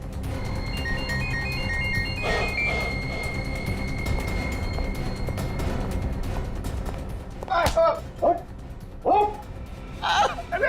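A phone ringtone plays as a steady electronic melody, followed by bursts of loud, tense voices.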